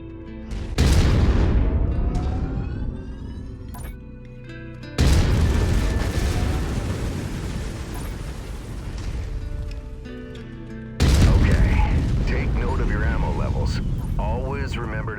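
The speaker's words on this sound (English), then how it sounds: "I've mapped the autocannon to Weapon Group 1. You're free to fire whenever you're ready." An autocannon on a mech in MechWarrior 5: Mercenaries fires three long, heavy barrages of booming rounds, each starting abruptly and rumbling loud and close. A voice speaks in the gaps and over the firing.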